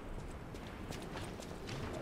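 Hooves of a horse in the video game Lies of P clop in a steady rhythm under a dense, rumbling ambient background, moderately near.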